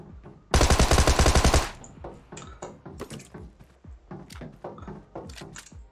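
Gunfire in a shooter video game fight: a loud, sustained automatic burst lasting about a second, followed by scattered single shots, thumps and metallic clanks over the next few seconds.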